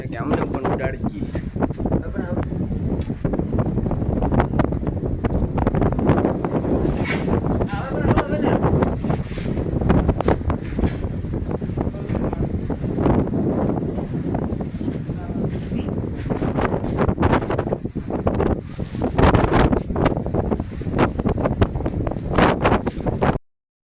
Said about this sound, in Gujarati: પટાસણા ગામમાં ખૂબ જ પણ વાયરો છે